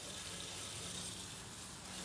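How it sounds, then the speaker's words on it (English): A garden hose waters a raised bed made from a metal garbage can filled with leaves, branches, chicken manure and peat moss. The water makes a faint, steady, continuous hiss with no voices. "final stage is to just water everything here"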